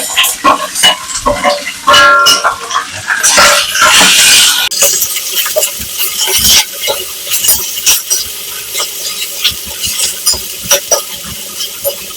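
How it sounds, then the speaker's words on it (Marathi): Mixed vegetables stir-fry in oil in a kadhai: loud, close sizzling punctuated by repeated sharp scrapes and clanks of stirring, with a denser burst of frying hiss partway through. "कढईमध्ये तेल टाकून घेतलेलं आहे त्याच्यामध्ये परतून घेणे"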